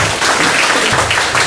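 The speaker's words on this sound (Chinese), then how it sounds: "好，接下来我们是不是就热烈掌声欢迎卢教授？" Audience applause welcoming a professor at a vocational school teaching-portfolio digitisation workshop, a steady, fairly loud wash of clapping that runs evenly through the whole moment with no voices over it.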